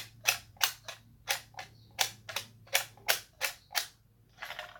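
Metal sliding door on a tin plate toy refrigerator box van worked back and forth, a dozen sharp close clacks in quick uneven rhythm, alone against a faint hum.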